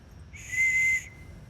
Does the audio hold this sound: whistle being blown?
yes